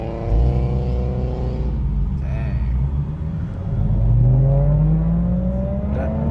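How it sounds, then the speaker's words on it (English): A loud Subaru BRZ sports car engine revs and roars nearby at a car meet in Gatlinburg, its pitch climbing as it accelerates, with a low rumble throughout. "Loud BRZ."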